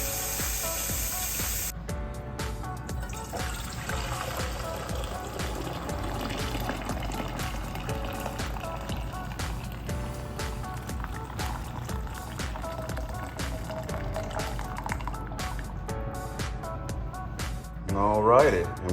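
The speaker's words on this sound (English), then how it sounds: "Get that cold water going, get them cool down." Cold tap water runs steadily into a pot of boiled eggs in a home kitchen, giving a constant splashing pour throughout, with a brief clatter near the end.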